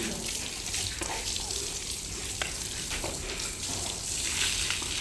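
Water splashing and pouring over a boy during a bath at home, a continuous rushing wash with faint voices in the background.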